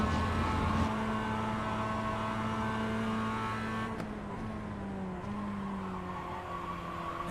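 Mazda race car in the iRacing game, onboard at Silverstone: a loud, steady engine drone with clear harmonic tones that hold, then shift and bend downward as the car changes gear and slows, running alone throughout.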